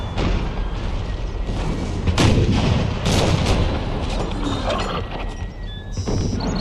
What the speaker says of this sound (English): I'm just trying to use my artillery to hit wherever I can hit.